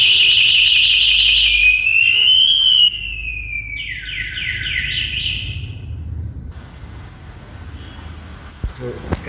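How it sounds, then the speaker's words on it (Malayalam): Anti-theft alarm on a Komaki electric cruiser bike: a loud, close electronic siren with rising and falling warbling tones, shifting through several patterns before cutting off, leaving quiet background. "ആൻറ്റി ടെഫ്റ്റ് അലാറം ഉണ്ട്."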